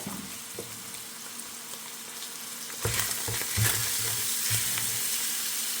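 Garlic dropped into a hot pan in a beef, potato and pepper casserole crackles into sizzling frying, a low hiss at first that swells into louder popping sizzle partway through, with no voices.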